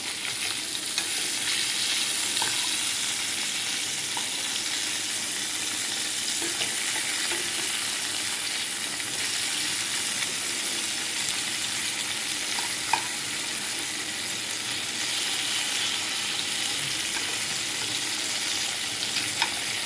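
Fish fries over low gas in a pan, giving a continuous, even sizzle and hiss for the whole stretch, with a few faint clicks and pops and no voices.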